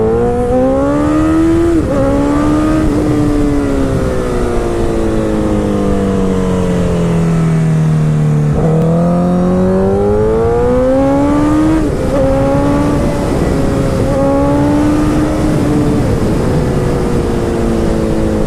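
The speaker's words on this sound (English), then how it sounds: "I'm having a lot of fun right now driving this 2015 FC07" A 2015 FC07 motorcycle ridden hard, its engine note climbing and falling through repeated throttle roll-ons and gear changes, loud and close throughout with no talking.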